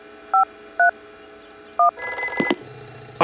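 An old cartoon answering machine dials a series of short beeping tones, then breaks into a loud, bright electronic ringing that cuts off abruptly, followed by a low buzzing hum.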